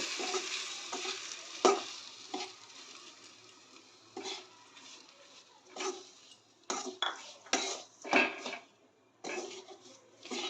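A spoon scrapes and clinks as semolina (suji) is stirred in a pan for spicy upma, repeated uneven strokes over a low frying hiss, close and fairly loud, no talking.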